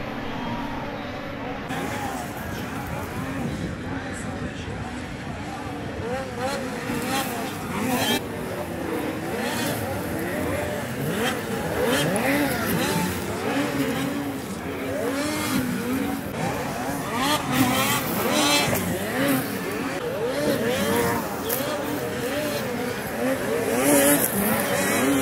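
Racing snowmobiles roaring around a track at a Sioux Falls race, engines whining and revving in overlapping waves at close range, with an excited announcer talking over them throughout.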